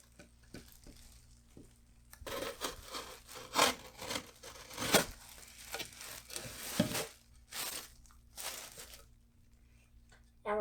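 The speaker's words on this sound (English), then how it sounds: "Now I'm going to use my knife to cut" Drywall is cut with a utility knife during a California patch repair of a hole: scratchy rasping strokes come in irregular bursts, close up, with quiet pauses between them.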